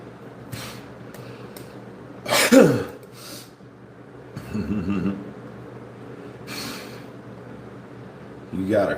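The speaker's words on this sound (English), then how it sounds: "You got a cold or something, bro? Stop sniffling." Sniffling and throat noises from someone allergic to a pet rabbit, a few short sharp breathy bursts and a throat-clearing scattered across a quiet stretch, close to the microphone with brief voiced sounds between.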